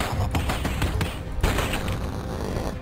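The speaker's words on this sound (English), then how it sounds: "Oh man, so many bullets!" Rapid gunfire in the Super Wolfenstein HD shooter, a dense burst of repeated shots and thumps with brief pauses, loud and close throughout.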